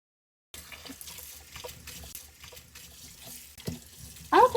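Cold tap water runs from a faucet into a cooking pot in a home kitchen, a steady splashing stream that continues throughout with a brief louder gurgle at the end, no talking.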